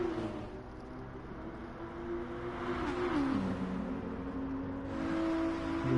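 Race car engines in Gran Turismo Sport on the Interlagos circuit, a steady droning whine with shifting pitch as cars run in a slipstream, continuous and moderately loud.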